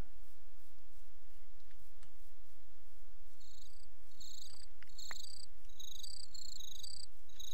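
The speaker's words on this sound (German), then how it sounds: "Die Grillen, die zirpen." Crickets chirp in Minecraft, high rapid trills repeating in short bursts over a quiet ambient background, with a few soft clicks alongside.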